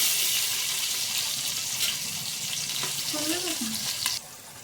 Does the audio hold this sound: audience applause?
no